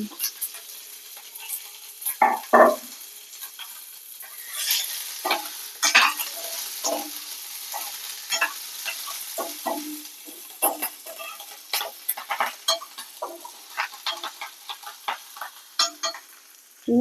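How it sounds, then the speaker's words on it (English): Curry leaves, onion, green chillies and capsicum fry in a pan for a fish dish, a steady sizzle broken by frequent close scraping stirs and clacks of a utensil against the pan. "కొంచెం కలర్ వచ్చే వరకు ఫ్రై చేసుకోవాలి, ఎక్కువ ఫ్రై చేసేది అవసరం లేదు"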